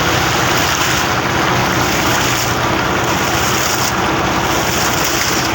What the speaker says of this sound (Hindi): दरिया चलता हुआ है ना, दरिया में पानी क्या हो रहा है।